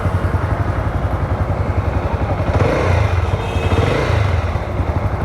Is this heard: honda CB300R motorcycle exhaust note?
yes